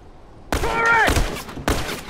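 A turret fires in The Last of Us, letting off three sharp, loud bursts of gunfire in quick succession, with a voice briefly shouting between the first shots.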